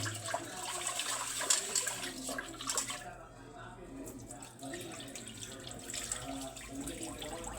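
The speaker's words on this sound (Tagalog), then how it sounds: "Hugasan muna natin yung kanin." Rice being washed by hand in a sink under running water, with a steady broadband splashing and rinsing wash that runs throughout, briefly thinning in the middle.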